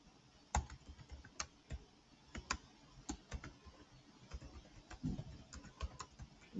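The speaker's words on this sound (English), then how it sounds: "So I click on down arrow on my keyboard." Computer keyboard keys are pressed repeatedly, including the down arrow, as a series of sharp, fairly quiet clicks at an uneven pace, close by with no talking.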